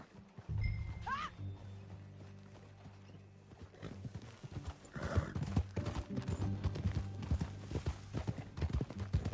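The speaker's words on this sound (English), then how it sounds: "That a new horse?" Horse hooves clip-clop steadily along a trail in Red Dead Redemption 2, with an early whinny and a later snort, the riding continuing as a dense, close rhythm of hoofbeats with some voices talking over it.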